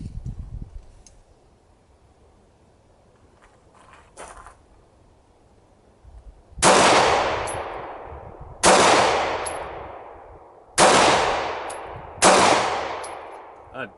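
Four loud, sharp pistol shots from a Remington R51 ring out close by at irregular intervals of about two seconds, each with a long echoing decay, after some quiet handling noise.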